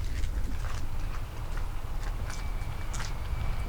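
Footsteps inside an abandoned 110-year-old train station, a series of faint, irregular crunching steps on gritty ground heard over a constant low rumble, with no talk.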